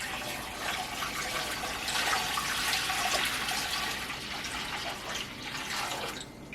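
A gallon of water pours into a canning pot, a steady, close, rushing splash that runs unbroken for several seconds.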